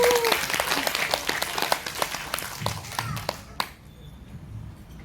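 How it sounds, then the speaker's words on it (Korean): Audience at a multicultural family performance applauding loudly, dense clapping with some sharp individual claps that thins out and stops abruptly near the end, leaving quiet room tone. "큰 박수 부탁드립니다."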